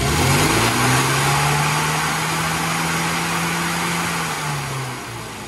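A car engine under test with a timing light revs up loudly and close, then holds a high, steady drone that slowly eases back down.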